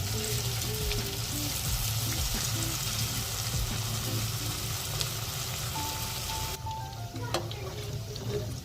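Javvarisi (sago) vadai deep-frying in hot oil, a steady loud crackling sizzle with scattered pops and bubbling, continuous throughout with no talking.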